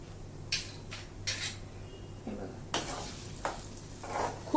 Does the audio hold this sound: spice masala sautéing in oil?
yes